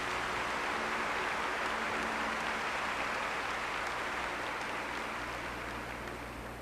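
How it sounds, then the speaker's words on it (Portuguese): Large crowd at a Catholic prayer camp talk applauds in a continuous, even wash of clapping that sounds distant and soft, holding steady before easing slightly toward the end. "Pode aplaudir essa palavra."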